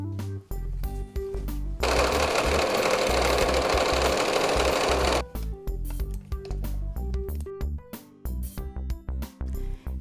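A sewing machine edge-stitches ribbon onto a pillowcase apron in short rhythmic bursts of stitching, with a long loud sustained whirring stretch in the middle. Nearby and with no voices.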